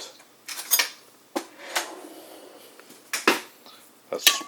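Clinks and clatters of a metal spoon being picked up and knocked against glassware in a kitchen while making lemonade, a few scattered sharp taps over quiet background.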